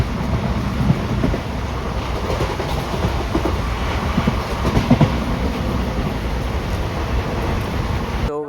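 The Koyna Express between Pune and Kolhapur rolls along the rails with a steady, loud rumble heard from inside the carriage, a few faint clicks and knocks rising over the continuous roar.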